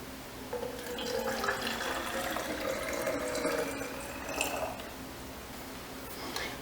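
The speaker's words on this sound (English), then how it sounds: "We're going to put my distilled water in first." Distilled water is poured into a foam pump bottle in a steady, close trickle for several seconds, with light splashing and faint background noise.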